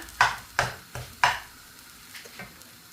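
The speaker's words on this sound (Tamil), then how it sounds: "இதை நல்லா இந்த புட்டு கொத்தை வந்து இதோட சேர்த்து மிக்ஸ் பண்ணுவோம்" Puttu kothu, crumbled steamed rice-flour puttu with fried anchovy, stirred and tossed in a pan: three sharp scraping strokes in quick succession, then two softer ones, with a faint sizzle beneath, fairly quiet and close.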